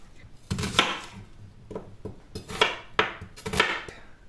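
A knife chops mushrooms and onion on a board in a home kitchen during meal prep, with irregular sharp knocks in loose clusters, close and fairly loud, and no talking.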